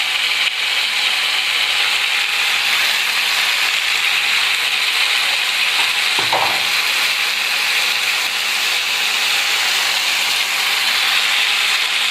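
Chilies hiss into hot oil in a pan while cooking chicken curry, a steady broad sizzle held at an even level for the whole stretch, with one brief clatter near the middle and no talking.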